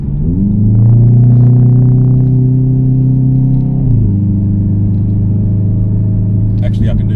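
A Hyundai i30 N hatchback with a DCT gearbox pulls hard through its gears, a loud steady engine drone stepping down in pitch at a quick upshift, heard from inside the cabin.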